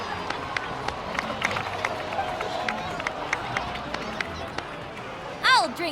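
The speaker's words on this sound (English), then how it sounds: "please give another round of applause for them" A crowd in Genshin Impact claps in scattered, light claps over a murmuring background, fairly faint, ending with a short rising game sound effect.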